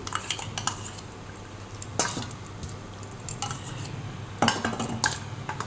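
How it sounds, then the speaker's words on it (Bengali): Sour yogurt being worked into fried chicken pieces in a pot, with a spoon clinking and scraping against the metal in irregular bursts over a low background hum, nearby and no talk. "টক দইটা ভালো করে মাখিয়ে নিচ্ছি মাংসের চারিদিকে"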